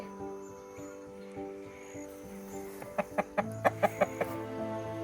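Soft, steady background hum, then a quick run of about seven short, sharp clucks from a rooster, rhythmic and fairly close.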